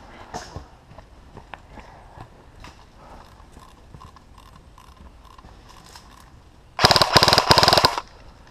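An airsoft gun with a Lonex motor fires one loud rapid burst of about a second, standing out sharply after quiet ambient clicks and footsteps on an indoor field.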